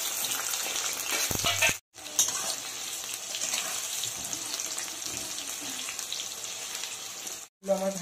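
Eggplant pieces frying in hot oil in a pan give a steady, close sizzle and crackle that runs nearly the whole time, broken by two brief pauses.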